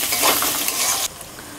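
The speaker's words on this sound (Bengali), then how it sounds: "তেল গরম হয়ে গেছে, এক বাটি কুচানো পেঁয়াজ" Chopped onion hits hot oil in a pan while cooking a magur fish curry, a bright crackling sizzle with stirring clatter that drops sharply to a softer steady fry after about a second.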